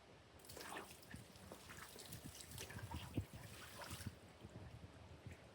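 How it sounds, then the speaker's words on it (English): A bag dunked into a bucket of water gives gentle sloshing, trickling and dripping sounds, close up and fairly quiet, with small splashes scattered through. "I got a bucket of water here, and I'm just gonna dunk it in there for a couple minutes"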